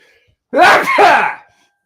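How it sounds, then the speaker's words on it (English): A single loud sneeze bursts out after a moment of quiet, with a sharp intake and a forceful release, then fades. "Whew, had to sneeze."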